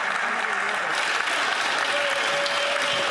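Members of Parliament applaud during Question Period in the House of Commons, a sustained, fairly loud round of clapping across the chamber that holds steady throughout, with a faint voice murmuring underneath.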